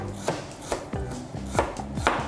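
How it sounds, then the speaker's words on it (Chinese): A knife chops lemongrass on a cutting board in a quick run of about eight sharp, close thuds, with no voices. "咁我哋首先切咗香茅先啦，咁我哋就切"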